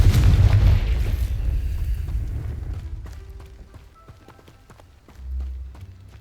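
Confringo fire spell exploding in the Hogwarts Legacy video game, a loud deep boom that rumbles and fades over several seconds, followed by a softer low thud.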